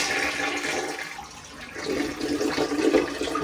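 A toilet flushed during a 1970s bathroom remodel, a loud rushing, swirling gush of water that dips briefly and then surges again as the bowl drains, heard close up with no talking.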